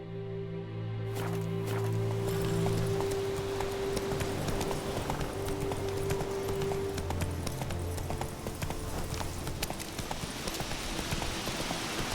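Roach, the horse in the video game Witcher 3, walks at a steady pace, its hooves clip-clopping in an even rhythm throughout, close and clear over a sustained tonal background.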